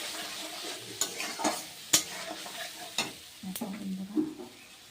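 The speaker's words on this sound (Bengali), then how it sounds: "এটা একটু কষিয়ে নেব।" Turmeric and salt sautéed with spices in a pan for veg biryani, a low steady sizzle under several sharp scrapes and clinks of a stirring spoon, close by with no talk.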